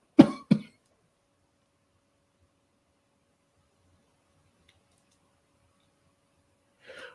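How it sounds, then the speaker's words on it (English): Two sharp, close coughs from someone smoking a spliff ring out at the start, then near silence follows until a faint rustle at the end. "this wasn't making me cough a little while ago"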